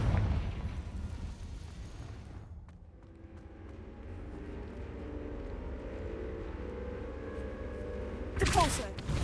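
The Confringo fire spell in the Hogwarts Legacy video game blasts with a loud, rushing explosive roar, then settles into a low rumbling hum before a sharp crackling burst near the end. A voice is heard briefly.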